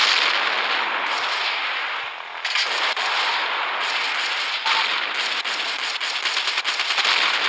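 In the Gunship Battle naval war game, explosions roar as a dense, loud, continuous blast of noise, broken by sharp cracking bursts and rapid rattling fire.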